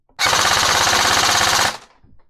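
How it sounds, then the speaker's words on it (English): An airsoft gun with its stock OEM motor fires on full auto, a loud, fast, even burst of rapid clicks lasting about a second and a half before cutting off. "Let's do full auto. OEM motor, here we go."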